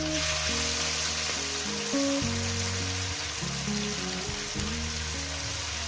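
Pieces of katla fish frying in a pan over a medium gas flame, a steady loud sizzle that runs throughout, with tonal sounds layered over it.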